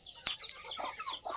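Pure Aseel desi chickens on a free-range farm cluck softly at some distance in the morning, with a few scattered calls and one sharp brief click near the start.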